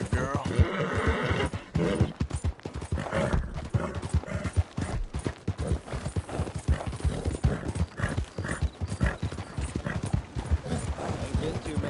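Horse hooves clip-clop in a steady walking rhythm in Red Dead Redemption 2, with a horse neighing early on and voices talking over the hoofbeats.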